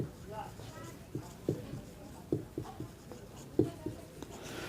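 A pen writes on paper while solving a maths exam problem, giving soft scratchy strokes and light taps in irregular bursts, close and quiet over a low background hum.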